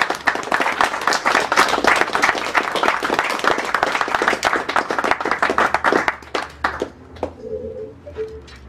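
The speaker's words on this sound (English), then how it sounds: "I believe your knitting deserves a great round of applause." Audience applause for a world-class knitter at a Games Done Quick speedrun charity event, dense steady clapping that thins out and fades in the final seconds.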